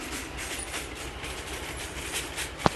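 Goods train rolling past in the RG Train Tech Demo game, a steady broadband rumble of wagons with continuous rail noise and one sharp click near the end, no voices.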